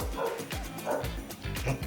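A dog indoors barks and yips in a rapid string of sharp, fairly close bursts that sound agitated, with faint background sounds between the barks.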